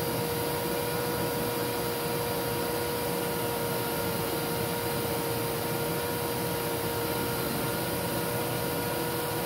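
A Lindhaus Aria Elite vacuum cleaner runs at full power with the power nozzle off, giving a loud, steady, unbroken motor whine and airflow roar with a constant high tone throughout.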